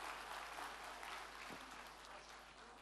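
Steady, dense applause from an audience at a community evening gathering of people from Bingöl, continuous clapping throughout at moderate loudness.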